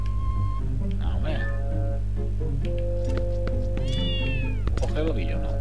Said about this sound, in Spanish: Dejadme, gatos, no tengo comida.